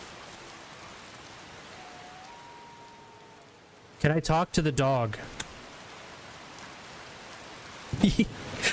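Steady rain falls in Skyrim, a soft continuous hiss throughout, with a voice talking briefly in the middle and again near the end.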